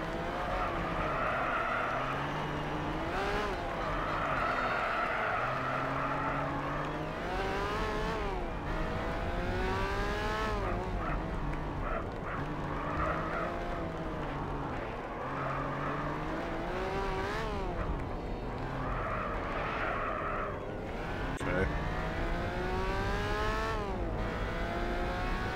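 Race car engine in the game Gran Turismo HD Concept, revving and swooping up and down through repeated gear shifts and corners, steady and fairly faint throughout, with tyre noise mixed in.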